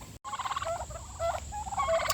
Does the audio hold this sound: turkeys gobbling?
yes